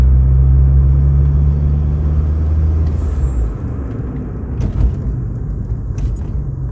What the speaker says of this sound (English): give it a bit more now and a bit of a harder brake and see what happens